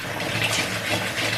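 Cold water runs steadily from a tap while fresh carrots are washed, a close, continuous splashing stream at even loudness with no voices.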